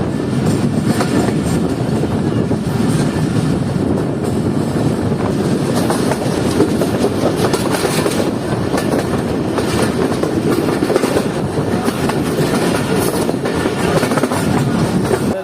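The Shah Latif Express runs on rails leaving Tando Jam station, a loud, steady rumble of wheels with faint clatter throughout, close and unbroken.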